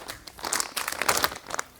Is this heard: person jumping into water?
no